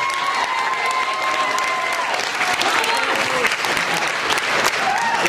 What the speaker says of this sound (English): who deserves a big round of applause before we even start.